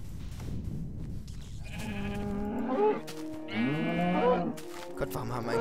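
Cows moo in Minecraft, drawn-out tonal lowing calls in two bursts that swell and bend in pitch over a soft game background.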